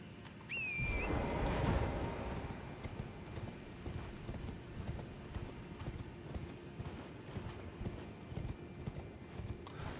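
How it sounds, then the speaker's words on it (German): Horse hooves clip-clopping at a steady gallop in the video game Elden Ring, an even rhythm of hoofbeats running throughout at moderate level after a brief chime at the start. "dann können wir hier wahrscheinlich unser Pferd erst benutzen"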